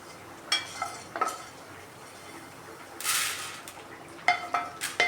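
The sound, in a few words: urad dal being fried and stirred in a pan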